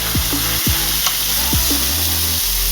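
Vegetables sizzle steadily on a grill beside liver and onions, a constant bright hiss with a few soft scraping knocks as the pieces are turned.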